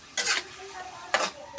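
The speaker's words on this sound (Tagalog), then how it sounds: "Halu-haluin nyo lang hanggang maging brown na siya." Pork and ampalaya (bitter gourd) frying in a pan, stirred in two short scraping bursts with a quiet sizzle between them, close and moderately loud.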